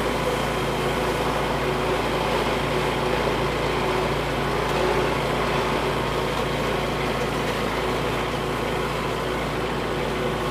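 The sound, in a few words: tractor engine while cutting hay on a hillside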